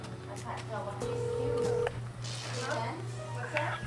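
Telephone dialing tones, a steady tone for under a second followed by short beeps, heard amid background hum and people talking.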